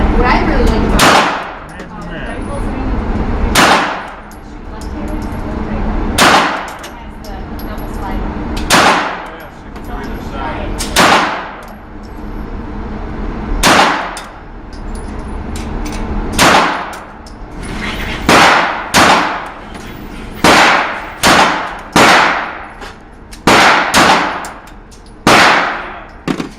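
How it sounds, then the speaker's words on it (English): Someone fires an H&K USP 9mm pistol at an indoor shooting range. Sharp, loud reports ring out one after another at uneven intervals, sometimes in quick pairs or runs, each with a booming echo off the hall, over a steady background din. "I'll show the footage shooting this. The H&K USP 9mm."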